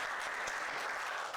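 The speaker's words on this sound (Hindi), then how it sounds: "ऋत्विक प्रभु के लिए तालियां" An audience at a Bhagavad Gita seminar claps in dense, continuous applause for a participant named Ritvik, filling the room evenly for a brief moment.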